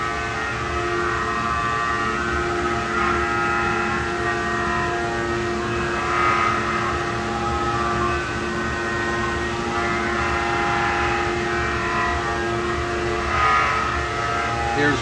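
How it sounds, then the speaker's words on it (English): A cylinder head porting machine cuts a new port into a drag boat engine head, giving a continuous loud whirring hum with faint periodic swells that stays steady throughout. "So here's our new head porting machine."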